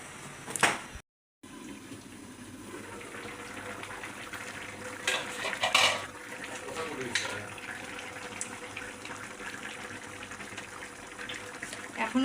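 Water splashes and runs steadily as ingredients for a Bengali taro and small puti fish curry are rinsed by hand in a home kitchen, with a voice talking over the washing.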